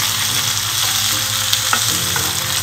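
Pumpkin sabzi stirred in a pan over a low to medium flame, a loud, steady sizzle with occasional soft scrapes of the spoon, close and continuous, no talk.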